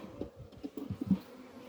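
Honeybees buzzing close by at an open hive during honey harvest, in short irregular bursts, a soft low droning hum that rises and fades.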